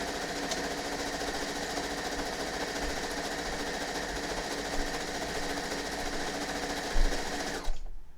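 Sewing machine stitching fabric for dice bags, a fast steady mechanical whir and clatter running continuously at close range before cutting off abruptly near the end, no talk.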